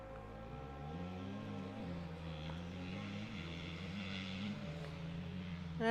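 Budd RDC rail diesel cars rumbling past a crossing, a steady low engine drone with layered harmonic hum that holds throughout and swells slightly at the end, with no voices.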